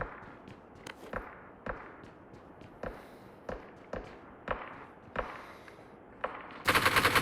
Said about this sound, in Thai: อ๋อเสียงปืน